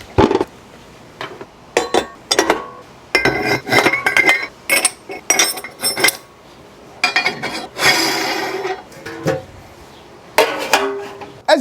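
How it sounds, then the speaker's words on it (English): A meat grinder with a fine die works beef chuck for burgers, heard as loud, close, irregular clanks, clinks and grinding bursts of metal with short pauses between them. "Time to bust out the meat grinder."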